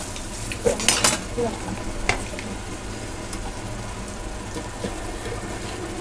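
Dried fish shutki bhuna fries in a pan with a continuous sizzle, while a utensil scrapes and clinks against the pan in a few sharp strokes early on, close and alone with no voices.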